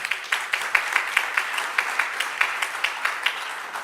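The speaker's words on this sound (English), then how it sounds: "let's give our panelists and our moderator another big round of applause" A conference audience gives panelists and a moderator a round of applause at a forum, heard as sparse, distinct claps in a steady rhythm that carry on at moderate loudness with no talk over them.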